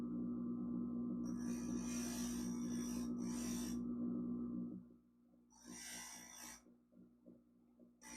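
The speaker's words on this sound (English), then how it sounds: "I need to grind this a little more." Stained glass piece pressed against a spinning glass grinder bit, a steady low motor hum with bursts of harsh high grinding, after which the motor drops away and short gritty touches follow.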